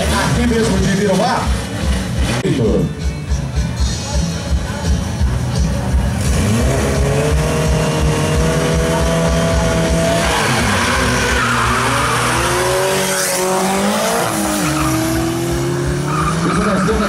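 A drag racing car roars loudly off the line at a Copa Sul de Arrancada practice, engine revving through rising gear changes with tire squeal, a voice announcing over the din.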